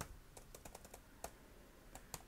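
Someone types a Wi-Fi password on a computer keyboard, a quiet run of quick light key clicks in an irregular rhythm, with no talking.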